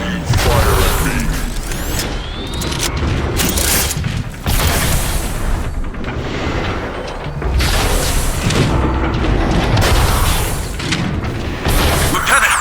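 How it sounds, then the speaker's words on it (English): Heavy flak fire from a giant marauder in Transformers: Fall of Cybertron, with dense booming bursts and mechanical clatter pounding almost without pause. Voices talk over the barrage. "There's a giant marauder laying down a wall of flak. Thing won't let up."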